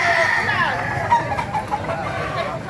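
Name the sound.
white kelso gamefowl roosters at a market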